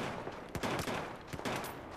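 Bursts of gunfire in Battlefield 4, several loud sharp cracks in quick clusters with short gaps between, close and dense like rapid volleys, with no talking over them.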